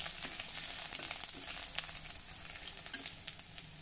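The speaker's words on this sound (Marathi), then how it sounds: "आलं लसूण पेस्ट जरा हलक्या तांबूस रंगाची होईपर्यंत परतून घेऊया।" Ginger garlic paste sizzles softly in hot oil while being sautéed and stirred, a faint steady frying hiss with small scraping ticks, no talking.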